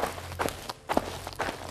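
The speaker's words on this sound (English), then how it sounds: "I get different footsteps on each key, but if I press the same one, I'll get the same footstep, but then I can simulate walking." Footstep sound effects triggered from a MIDI keyboard in MetaSound, a handful of close, dry steps in an uneven walking rhythm.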